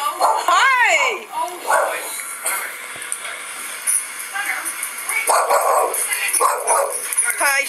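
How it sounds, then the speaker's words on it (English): At a bakery, a dog gives a few high yips and whimpers, close by, mixed in among cheerful voices of people greeting each other. "She's smelling my dog."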